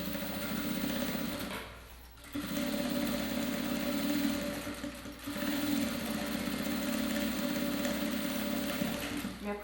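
A sewing machine sews a safety seam to fix the lining of a shoulder bag, a close, steady motor hum that dips into two short pauses before running on.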